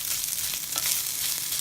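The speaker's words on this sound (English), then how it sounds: "And you can stir fry these as well." Rice stir-fried in pots for a pilau: a steady, bright sizzle and crackle of frying grains with faint stirring, close and continuous, with no talking.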